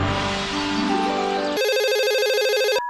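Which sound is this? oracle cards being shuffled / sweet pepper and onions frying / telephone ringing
telephone ringing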